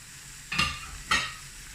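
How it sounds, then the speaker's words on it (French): Two quick thuds as chunks of potato and carrot drop into a pot of lamb stew, each followed by a brief rattling sizzle, then a quiet simmer with no talking. "Je rajoute mes pommes de terre et carottes."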